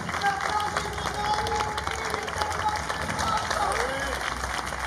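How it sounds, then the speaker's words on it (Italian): Audience applause at an outdoor emerging-music festival at Villa Clementi in Malo, a continuous moderate wash of clapping with a few voices and whistles mixed in. "Io direi di fare un applauso davvero"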